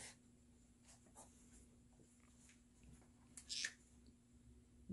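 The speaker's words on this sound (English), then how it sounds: "I'm going to show you how we write F." Writing the capital letter F by hand in a children's alphabet lesson, a few soft scratchy strokes over a quiet room hum, close and faint.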